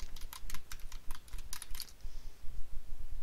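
A computer keyboard clatters with a quick run of keystrokes as a search is typed, close and clear, then falls silent into low room noise.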